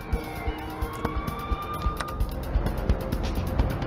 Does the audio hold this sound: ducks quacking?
no